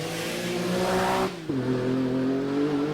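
A vintage ERA race car engine screams loudly as it accelerates through the gears at a hillclimb, pitch climbing, a short dip at a shift, then climbing again.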